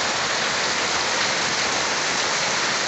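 Heavy rain falling in a windy rainstorm, heard from indoors near a window, a loud, dense, unbroken hiss of drops pounding surfaces with no voices.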